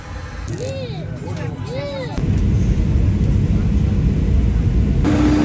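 Loud, steady broadband roar of a passenger airplane while boarding, building up after a brief voice speaks at the start and continuing to the end.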